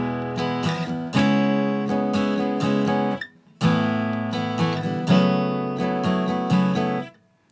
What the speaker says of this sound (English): especially if you're just playing by yourself on an acoustic guitar